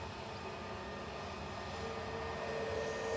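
A British Airways Airbus A320neo jet departing Manchester Airport for London Heathrow gives off a faint, steady engine rumble with a thin whine, building slightly toward the end, with no talking.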